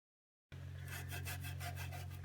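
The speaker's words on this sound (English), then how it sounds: "You'll want to go in with a Scotch pad and clean the mating surfaces perfectly so that you get a good seal." A Scotch pad scrubbing the mating surfaces of a T56 transmission during a throwout bearing retainer job, heard as rhythmic back-and-forth rubbing strokes over a steady low hum, close and with no talking.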